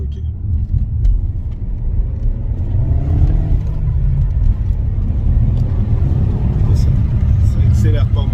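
A Peugeot 308 GTi accelerating, heard from inside as a loud, steady engine rumble and rising whir building over several seconds, with people talking throughout.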